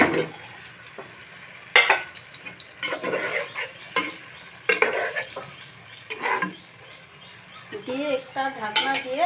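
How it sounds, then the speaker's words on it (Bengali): Water and fried rohu fish going into sizzling masala for a rohu tel jhal curry: a burst of hiss and splashing, then repeated spoon scrapes and clinks against the pan, close and moderately loud, with no talking. "এখন ঝোলের জন্য দিব পরিমাণ মতো জল আর ভেজে রাখা মাছ"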